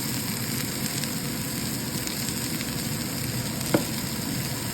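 Banana peels frying with onion and garlic in a pan, a steady dense sizzle throughout with one brief clink near the end, fairly close and alone without talk.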